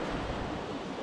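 Black Sea waves wash onto the shore at Odesa, a steady broad rush of surf close by with some wind noise, no voices present.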